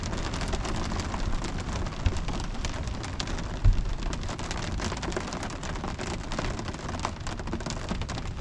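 Heavy rain pours steadily in a dense, unbroken hiss by a lake, heard from under a tree, with a couple of sharper drops or taps standing out now and then.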